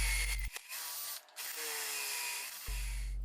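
A power drill boring dowel holes into closet panel wood, whirring in a few sustained bursts separated by short pauses, close and clear.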